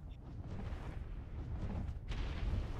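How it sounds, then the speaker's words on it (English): Grenade blasts in ARK: Survival Evolved during a raid thunder as low, rumbling explosions that overlap into a continuous muffled roar, with one sharper burst near the end. "I'm just throwing grenades in like a lunatic"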